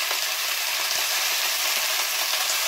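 Chicken pieces fry in olive oil in a hot pan, giving a loud, dense, unbroken sizzle heard up close with no voices.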